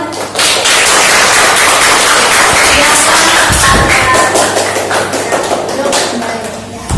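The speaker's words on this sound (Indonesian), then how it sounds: "Tepuk tangan." A classroom group claps together, close and loud with sharp, crisp hand slaps that keep going for several seconds before fading, and voices can be heard within it.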